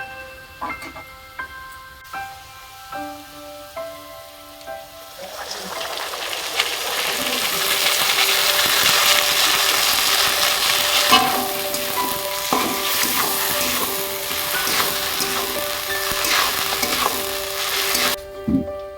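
Ground spice paste hits hot oil with fried potatoes and root vegetables in a pan. After a few quiet seconds of soft clinks and background tones, it swells into a loud, steady, close sizzle that holds almost to the end. No one speaks.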